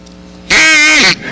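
One loud, close quack from a double reed duck call, a single raspy blast of about half a second with nothing else around it.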